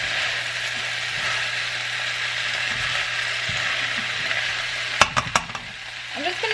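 Mauritian chow mein fried noodles sizzle steadily in a pan, a constant close hiss with a few sharp utensil clatters near the end and no talking over it.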